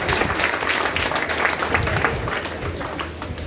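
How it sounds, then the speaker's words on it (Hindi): A seminar audience at an RCM business event in Jehanabad, Bihar, claps vigorously and continuously, a busy, fairly loud patter of many hands with a faint voice underneath. "एक बार जबरदस्त ताली बजा दीजिए साहब"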